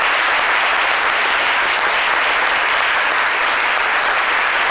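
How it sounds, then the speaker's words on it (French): A large audience at a gala for Ivorian broadcaster RTI bursts into loud, sustained applause, a dense unbroken roar of many hands clapping at once with no voices over it. "Madame Dao Gabalak, je vous demande d'applaudir très très fort"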